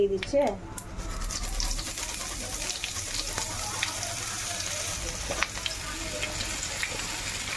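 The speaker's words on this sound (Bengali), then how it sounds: "আদাটা গেটারে ঘষে দিয়ে দিলাম" Fresh ginger scraped across a metal grater in a home kitchen while cooking khichuri, a steady gritty rasping that runs on without a break, with a sizzling pan and someone talking throughout.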